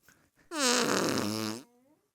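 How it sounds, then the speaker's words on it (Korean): A single loud, buzzy fart sound effect lasts about a second, sliding in pitch, preceded by faint soft noises and ending in a quiet trailing tail, in a children's program. "이건 그냥 음? 방귀 소리잖아요."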